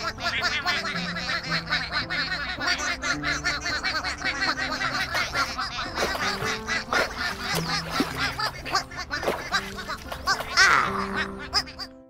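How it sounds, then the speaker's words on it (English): Chirpy, squeaky duckling quacks from a kids' counting game, many rapid high calls layered over bright musical tones, busy and continuous throughout. "Big Blue made sure that all 12 ducklings found the pond."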